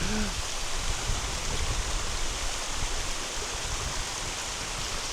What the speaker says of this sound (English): Such a cool waterfall.